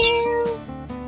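A cat meows once at a busy outdoor pet market, a single close, drawn-out cry over a sustained tonal background hum.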